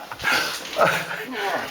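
A dog named Fefo whimpers and yips while slipping on rocks in a gorge, its faint cries rising under people talking nearby.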